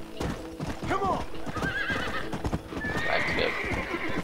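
Horse whinnies repeatedly in the Red Dead Redemption game over clip-clopping hooves, the neighs rising and trailing off, with someone talking over the game sounds.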